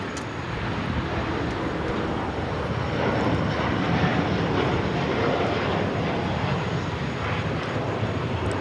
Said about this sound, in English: This is Latam Airlines 603 taking off to Santiago, Chile on the 787-8 Dreamliner